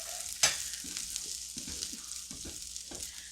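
Potatoes and sausage fry in an oiled pan with a steady sizzle. Several scraping stirs break through it, including one sharp clack near the start. The sound is close-up and there is no talking.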